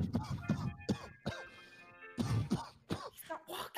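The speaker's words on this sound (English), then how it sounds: "He's coughing." Someone coughs and clears their throat in a string of short, harsh bursts amid a noisy, chaotic group setting, with voices talking in between.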